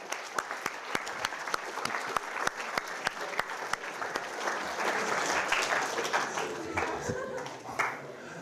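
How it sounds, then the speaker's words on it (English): Audience applause fills a lecture hall, a steady wash of many hands clapping for several seconds with a few sharp individual claps standing out, fairly loud and continuous throughout. "Let's give him a big round of applause."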